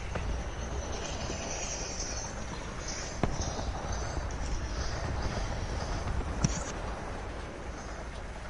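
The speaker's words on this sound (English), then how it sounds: "Why the hell are you listening to train noises?" Steady rumble of a train, continuous low rolling noise with a couple of brief sharp clanks, heard at moderate level throughout.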